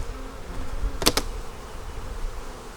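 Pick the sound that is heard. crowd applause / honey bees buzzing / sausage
honey bees buzzing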